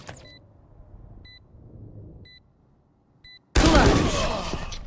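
In Valorant with the spike planted, faint periodic beeps tick over a quiet background before a sudden loud burst of Bulldog rifle fire erupts and rattles on to the end.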